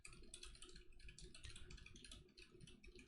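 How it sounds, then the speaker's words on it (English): Computer keyboard typing picked up by a BM800 condenser microphone with the noise gate off, a quiet, steady run of rapid key clicks over a constant background hiss. "This is my normal typing sound."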